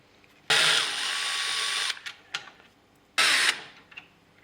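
A power tool drives out screws on a Yamaha Tenere 700: a close, loud whirring burst of over a second, a few small clicks, then a second shorter burst.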